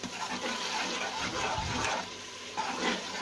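Water poured into spice masala being fried in a pan while cooking kidney beans (rajma), a steady close hissing, splashing wash lasting throughout with a brief stronger burst midway.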